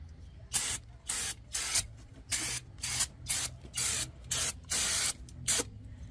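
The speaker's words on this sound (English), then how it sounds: "grab some brake clean and spray it down" Short hissing bursts of aerosol brake cleaner spray come one after another, about ten in quick rhythm, loud and close with quiet gaps between.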